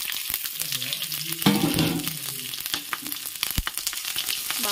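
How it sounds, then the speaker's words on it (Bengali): Cumin, panch phoron and other whole spices with green chillies hit hot oil, giving a loud, close crackling sizzle full of sharp pops and spits that keeps going throughout. "বাবা, কাঁচা লঙ্কাগুলো কি ফাটছে!"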